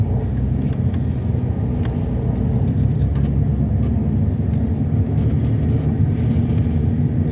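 A car drives through the suburban streets of Whitby, Wellington, New Zealand, heard from inside as a steady, loud road rumble and engine drone, with faint ticking interior noises and no talk.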